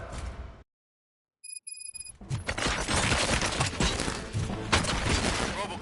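Rapid gunfire bursts in the Robocop: Rogue City video game, a dense, loud stream of shots filling the last few seconds after a brief electronic beep and a silent gap.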